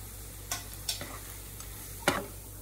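Dry spice masala sizzles quietly in a pan for egg biryani under a low, steady hiss. A few sharp scraping strokes of stirring stand out, with the loudest near the end, and no one speaks.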